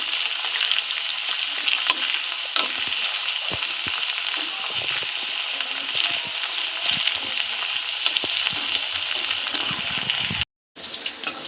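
Okra, or lady finger, fries in oil in a Telangana-style dry fry, a dense, continuous sizzle with occasional stirring scrapes, close and steady until it cuts off briefly near the end.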